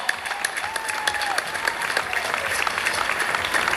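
Audience at a Golden Gate Casino Roaring 20s renovation celebration in downtown Las Vegas claps steadily, a dense crackle of applause with a faint tonal sound drifting through.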